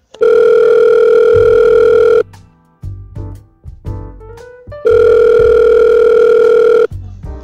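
A loud telephone rings on a radio call-in show in two long electronic bursts, with a quieter stretch of electronic tones and clicks between them and no talking.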